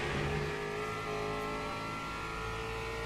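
A race car engine revs hard against its rev limiter in a racing video game at Imola, a steady, loud, buzzing drone that holds high and even throughout with no voices over it.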